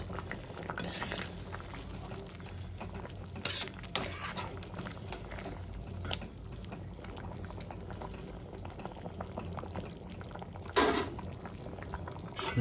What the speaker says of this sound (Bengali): আমি ঢেকে দেবো, ভালো করে ফুটতে দেবো।